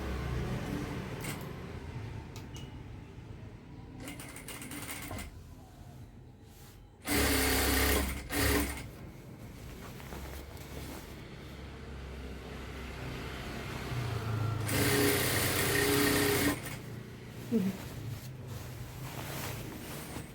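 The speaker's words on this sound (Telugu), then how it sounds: "కింద నుంచి పైకి కుట్టాలన్నమాట. కింద నేను స్టార్ట్ చేస్తున్నాను ఇప్పుడు." A sewing machine stitches a dress top, its motor whirring loud and close in sustained runs that start, stop and restart, with brief pauses and fabric handling between them.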